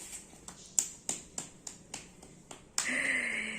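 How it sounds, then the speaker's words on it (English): A child claps hands at home in a series of about eight sharp, separate claps spaced roughly evenly, fairly close and alone, followed by a brief burst of brighter noise at the end. "Do clapping."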